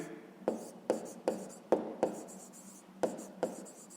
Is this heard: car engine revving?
no